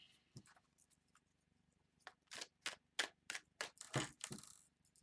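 Tarot cards are shuffled up close, giving a quick run of crisp riffling snaps and flutters, about eight sharp bursts clustered in the latter half against near silence.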